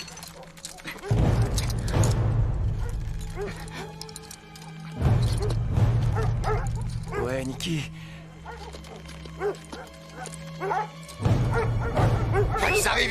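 Several dogs bark and yip in a tense chase scene, the barks mixed with loud rumbling crashes and music, while people shout over them.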